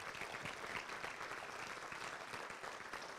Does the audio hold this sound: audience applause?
yes